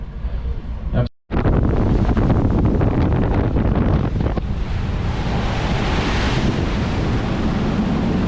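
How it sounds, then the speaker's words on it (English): Rough seas and strong wind at sea near Antarctica, heard as a loud, constant roar of waves with heavy wind buffeting the microphone and a brief dropout near the start. "Rough seas as we head towards the Great Passage."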